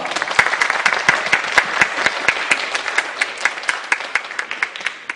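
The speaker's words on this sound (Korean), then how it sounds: "큰 박수 부탁드리겠습니다" Audience applause for three student presenters at a high school climate-change presentation event, a dense, steady burst of many hands clapping with sharp individual claps standing out, loud and close for the whole stretch with no talk.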